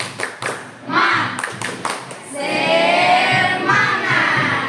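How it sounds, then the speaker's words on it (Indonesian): A group of people in an Indonesian group guidance session clap a rhythmic spirit cheer, with sharp hand claps in a patterned beat mixed with voices calling out between and over the claps. "Oke, tepuk semangat."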